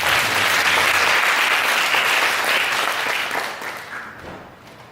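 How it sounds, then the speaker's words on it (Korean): A church congregation applauding during a Sunday morning worship service, a dense, steady wash of many hands clapping that holds strongly for several seconds before gradually fading out. "우리 수강 모두들이 함께 하나님께 박수를 드립니다."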